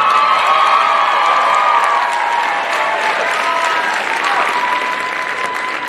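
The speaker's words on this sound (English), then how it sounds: "Let's give another round of applause." Loud, dense applause and cheering from a high school glee club audience, continuous clapping with scattered whoops and shouts, filling the space close and steady throughout.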